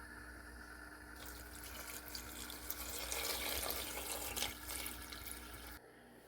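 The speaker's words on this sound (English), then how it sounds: "now I'm going to add about 1 litre of hot stock" Hot stock pours into a pot of lettuce soup as a steady liquid rush that swells and then tapers off, close and fairly quiet with no voices.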